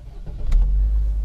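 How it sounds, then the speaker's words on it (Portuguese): A Chevrolet Tracker LT engine cranks briefly and catches, settling into a loud, deep, steady idle close by, with no talking. "e dá partida no Tracker."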